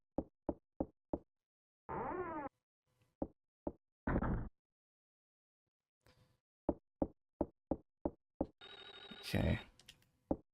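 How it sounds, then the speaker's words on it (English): In the video game Clock Tower: Rewind, a telephone rings in two loud bursts between rapid sharp knocking strikes, with a harsher electronic jingle near the end; the sounds come alone, without talk. "that phone is not going to stop ringing"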